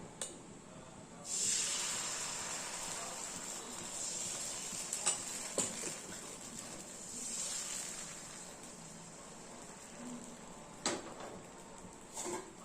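Appam batter made from raw rice, cucumber and coconut hisses softly in an appam pan, a faint steady sizzle with occasional brighter bursts and a few small clicks, close by and fairly quiet.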